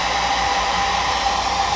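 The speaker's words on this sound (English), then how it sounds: "One hack that I do to curl my lashes and to just make it last is I use a hairdryer." A hair dryer blows steadily at close range while heating an eyelash curler, a continuous loud whooshing hum with no voices.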